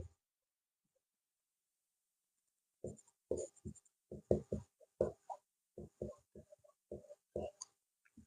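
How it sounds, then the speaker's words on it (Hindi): Chalk or marker writing on a board during a Hindi history lesson on the 1857 revolt, with short tapping and scratching strokes in quick irregular clusters after a quiet opening, close and fairly faint. "तो 11 मई थोड़ा अच्छा से लिख देते हैं।"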